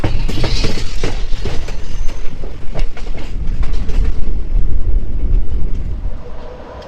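The Dhubri DEMU Intercity Express at Tufanganj station rolls past close and loud, with a dense rumble and rhythmic clickety-clack of wheels over rail joints that eases off toward the end.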